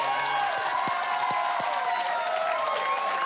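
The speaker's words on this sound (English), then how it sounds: "keep your applause going" Sustained applause from a large television studio audience, steady and dense throughout, with a few brief voices rising faintly over the clapping.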